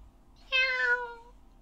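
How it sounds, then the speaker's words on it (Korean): A cat gives a single clear meow, drawn out for nearly a second, close and fairly loud against a quiet background. "고양이는 농부가 밥을 먹을 때마다 밥상머리에 와서 소리를 냈습니다."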